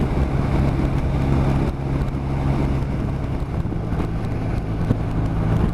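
A 2019 BMW R1250 RT motorcycle cruising at about 75 mph in sixth gear around 4,000 rpm, a steady engine drone buried in loud, continuous wind rush at the microphone.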